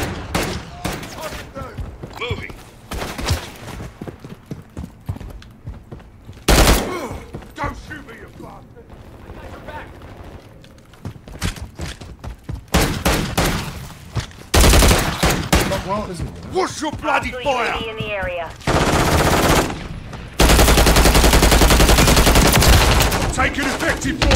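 Automatic gunfire in a video game, loud and dense, with long rapid bursts and single shots coming in clusters, while people talk excitedly over it.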